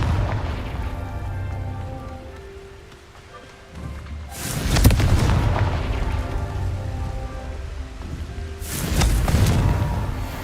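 Two heavy explosive blasts from the Confringo blasting spell in the video game Hogwarts Legacy, each a loud booming burst with a rumbling tail, spaced a few seconds apart over low background music.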